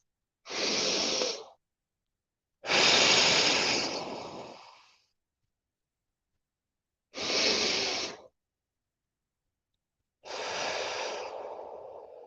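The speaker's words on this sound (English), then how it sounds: "So let me just breathe really quick. Breathe with me." Slow, deep human breaths, four long inhales and exhales alternating with clear pauses of silence, close and fairly loud with an airy, hissing texture.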